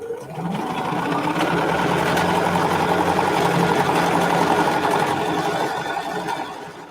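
A sewing machine runs continuously as elastic is sewn onto face masks, a close, steady whirring buzz that starts up, holds for several seconds and winds down at the end.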